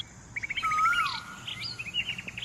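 On an Indian farm, birds call nearby with a quick run of rapid chirps, a sliding whistle, and scattered tweets, lively and clear over a quiet rural hush.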